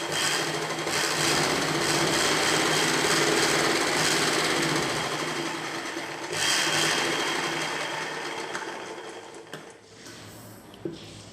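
A sewing machine runs steadily and loudly up close, stitching buckram onto a blouse, with a continuous whirring drone that eases slightly before a brief pause and a small click near the end.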